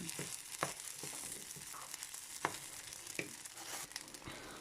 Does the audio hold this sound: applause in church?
no